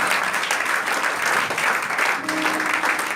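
Sustained applause from a church congregation, dense and even clapping filling the space throughout, with faint voices underneath.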